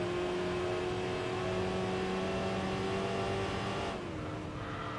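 Front-wheel drive subcompact engine in Enthusia Professional Racing holding a steady, sustained hum under light throttle, with a distinct drop in pitch near the end as the revs ease off; loud and continuous, no talking.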